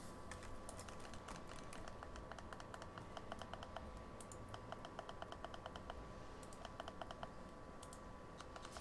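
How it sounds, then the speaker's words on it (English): Quick runs of light clicks from a computer mouse during video game play, a steady close patter of taps in bursts over a constant low hiss, with no talk. "you can hear the clicking on the mouse"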